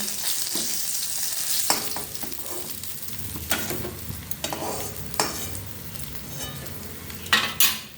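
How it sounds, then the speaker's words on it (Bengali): Fish heads fry in hot oil in a partly covered pan, a steady close sizzle with sharp crackling pops and spatters and occasional utensil clinks, no voices. "চাপা দিয়ে দিলাম, ওই জন্য খুব ফাটছে, গায়ে ছিটকে আসবে"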